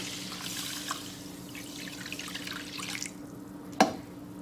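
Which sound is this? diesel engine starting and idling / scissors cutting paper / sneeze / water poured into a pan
water poured into a pan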